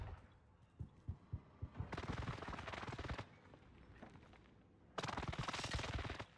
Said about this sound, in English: An airstrike I just called in